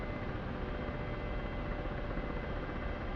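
A KA-50 Black Shark attack helicopter in the DCS World flight sim gives off a steady, dense rotor and turbine drone, constant and close with no voices.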